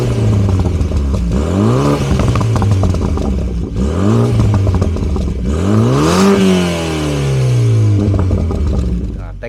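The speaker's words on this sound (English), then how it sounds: "The car has a dual exhaust pipes, and you're gonna hear them just right now." A BMW Z4 2.8i roadster with dual exhaust pipes revs hard several times, each loud rising roar falling back between blips, close by with a little talk underneath.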